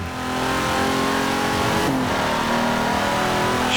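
In Forza Horizon 4, a drift-tuned 1952 Hudson Hornet's engine revs loudly and steadily, climbing through a drone, briefly dipping at a shift, then pulling hard again.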